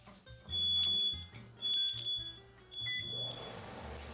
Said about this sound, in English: And we're setting off fire alarms.